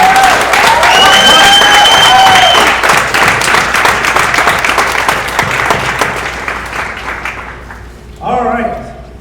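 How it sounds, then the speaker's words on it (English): Loud applause from a crowd at a middle school regional invention contest, dense clapping with some cheers that slowly thins and fades over several seconds, then a voice speaks briefly at the end. "how about a big round of applause for these guys?"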